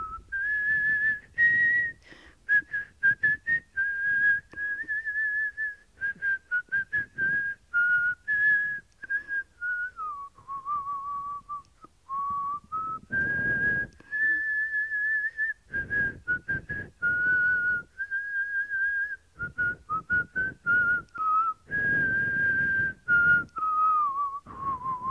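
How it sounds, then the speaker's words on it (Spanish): A 90-year-old woman whistles a song, a clear, close melody of sustained notes and short phrases with breaths between them, carrying on alone for a long stretch. "Silbo todas las canciones de las que me acuerdo."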